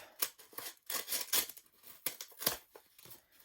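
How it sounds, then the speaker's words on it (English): Scissors snip paper from an envelope in a quick series of short, close cuts, each with a crisp rustle, uneven in rhythm and with no voices. "I'm going to cut the bits up"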